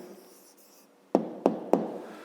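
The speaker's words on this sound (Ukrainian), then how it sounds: "Отже, пишемо відповідь." Pen writing down a math answer, three sharp taps or strokes in quick succession after a faint quiet lead-in, close and clear, without talk.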